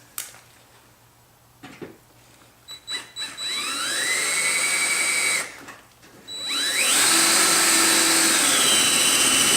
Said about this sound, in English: I'm going to drill the first one up in the fender